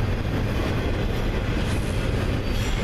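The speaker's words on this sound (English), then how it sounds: "that was 7292 and 7476 leading a, looks like a westbound intermodal." A westbound intermodal freight train led by locomotives 7292 and 7476 rolls past close by, a steady loud rumble of wagons and wheels with faint clickety-clack throughout.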